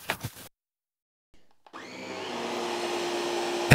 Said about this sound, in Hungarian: Ez a Szatka porszívó.